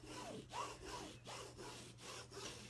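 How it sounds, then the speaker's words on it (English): A scraper rubbed firmly across the back of a vinyl-covered canvas makes steady, close rasping strokes in a regular back-and-forth rhythm, with no voices. "So I'm going to go ahead and take my scraper again,"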